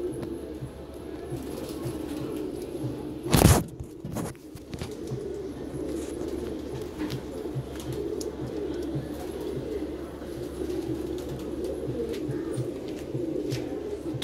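Madrasi pigeon pair cooing inside a cage, soft repeated low coos running steadily, with one sharp loud knock or flutter early on.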